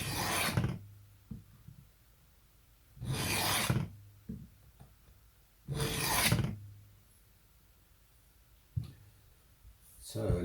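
An Elk Ridge ER-555 knife blade drawn across a sharpening stone in four separate rasping swipes, close and fairly quiet, separated by near silence with a few faint clicks.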